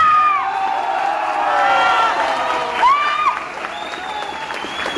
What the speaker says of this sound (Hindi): जिन्होंने हमें बजाया बनाया उनके लिए तालियां बढ़िया वाली होनी चाहिए।